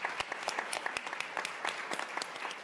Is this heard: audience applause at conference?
yes